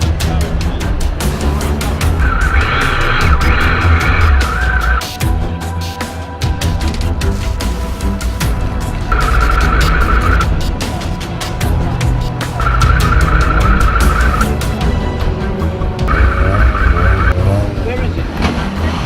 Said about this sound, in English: I'm doing noise tests, and it's saloon cars is 105 decibels and single seaters are 108 decibels.